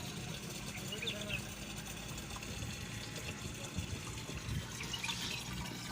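Water runs into a container in a continuous, fairly quiet rushing stream that holds steady throughout, with faint voices in the background.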